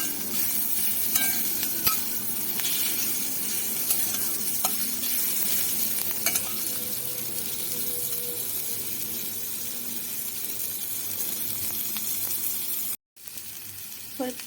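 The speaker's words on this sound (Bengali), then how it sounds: "পেঁয়াজ কুচিগুলো হালকা লাল লাল করে ভেজে নেব।" Chopped onions frying over medium heat in a pan, a steady dense sizzle throughout with occasional stirring scrapes, briefly cutting out near the end.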